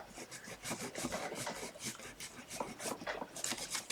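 A glue eraser rubber is rubbed quickly back and forth over a card, lifting off glue. The result is a close, continuous rasping scrub with rapid rhythmic strokes and no talk.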